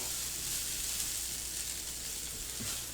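Sausage and hash browns fry in a pan with a steady, bright sizzle, and a light scrape of stirring comes near the end, heard close with no voices.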